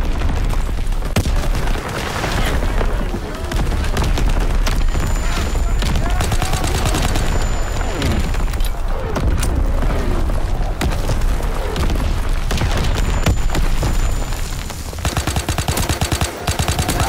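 A division artillery strike rages in a Call of Duty: WWII multiplayer match: loud, continuous heavy gunfire and booming impacts fill the whole stretch, with game voice lines mixed into the din.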